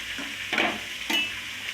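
Dried red chillies fry in a pan for tomato chutney, with a steady hiss of oil broken by two brief scraping stirs of a spoon against the pan, close and moderately loud.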